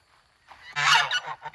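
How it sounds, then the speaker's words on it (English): Annoyed geese in an orchard let out a loud, close burst of nasal honking after a quiet start, with a few shorter honks trailing behind. "The geese are not pleased with me at all. They don't like me intruding on what they consider their orchard."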